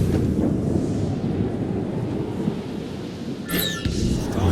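Thunderstorm at sea in the video game Assassin's Creed Rogue: a steady low roar of wind and rain runs throughout, with a sharper crack of thunder breaking in near the end.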